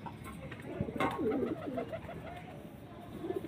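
A pair of pigeons, a male and a female kept for sale, coo close by in a few soft, rolling phrases over a quiet background.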